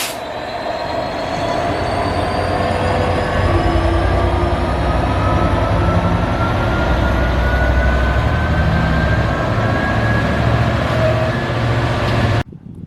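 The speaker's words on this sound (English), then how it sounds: "It's good coming here when the Fort William Alcan train comes through because it has to stop here for signalling reasons, and it's quite a big hill start." Fort William Alcan freight train at Garelochhead station on the West Highland Railway, pulling away from a stop on a steep hill start: a loud, continuous locomotive engine rumble with rising wheel and engine tones, close by for about twelve seconds.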